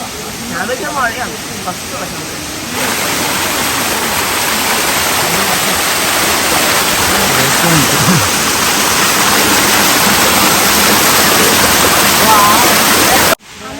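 A loud, constant roar of Alakapuri Waterfalls at Sasippara fills the whole clip, drowning out faint voices heard near the start.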